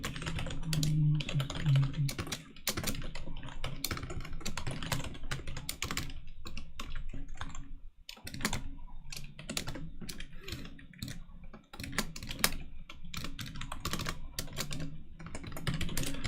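Rapid typing on a computer keyboard during a live coding session on an ARM disassembler, dense clattering keystrokes in bursts with brief pauses, close and steady throughout.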